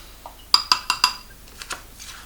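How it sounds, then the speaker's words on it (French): Green clay spooned into a bowl, four quick metallic spoon clinks on the rim followed by softer taps, close and clear with no talk. "je viens rajouter 4 cuillères à café d'argile verte"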